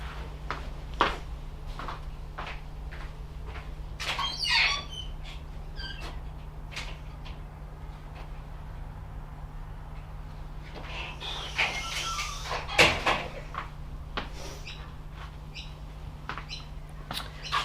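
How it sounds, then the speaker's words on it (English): A bird squawks in a couple of short bursts near the middle and again later. The calls are moderately loud over a steady hum and scattered clicks. "Oh my god, that bird."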